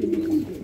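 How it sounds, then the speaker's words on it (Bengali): A satin pigeon gives one deep, resonant coo that swells and fades within a second, close and clear with no other sound. "মাদি কবুতর আর নর কবুতর চেনা যায়, কিন্তু এখানে নরটা কিন্তু ডাকে এবং মাদিটা কিন্তু অন্য একটা সুরে ডাকে।"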